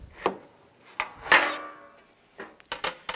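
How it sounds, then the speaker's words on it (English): A chopping board fetched and set down on a kitchen counter: several sharp hard knocks and clatters, one ringing thud in the middle and a quick cluster of taps at the end, close and without talk. "So now I'm gonna get my chopping board"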